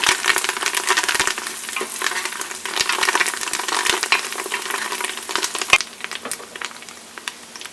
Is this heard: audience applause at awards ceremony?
no